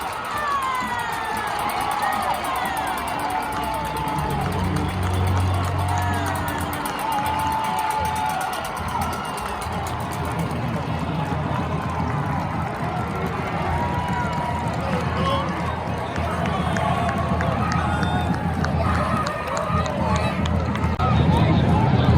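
A high school football crowd cheers and roars in a large outdoor stadium, a sustained wash of shouting and whooping voices with an announcer talking over it.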